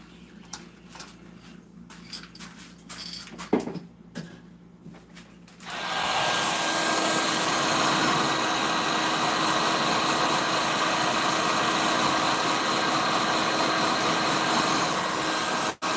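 A heat gun or heat blower switches on and blows steadily and loudly close by, a broad continuous roar drying a coat of Krylon 1306 fixative, after a few seconds of quieter handling noise.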